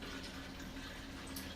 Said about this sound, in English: All right, so we're filling this up with water.